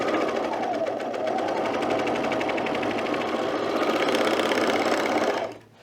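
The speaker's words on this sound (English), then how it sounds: "that's where we're about to sew" A sewing machine runs continuously while stitching an overlapped V neck, a loud steady mechanical whir with rapid needle chatter up close, stopping abruptly at the end.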